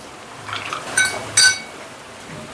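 Ice cubes dropped into a glass of lemon juice, two bright close clinks in quick succession over a quiet background.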